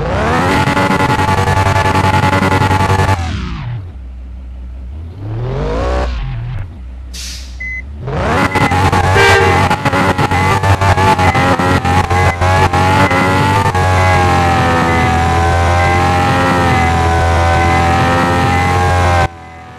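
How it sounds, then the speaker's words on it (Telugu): A Toyota Supra engine in the video game Bus Simulator Indonesia roars loudly and steadily, revving up and dropping back in sweeping pitch changes, with a brief cut-out before the drone resumes close and continuous. "సో ఇప్పుడైతే మీరు ఇంజిన్ సౌండ్ అయితే తినేయండి ఎట్ట టైం"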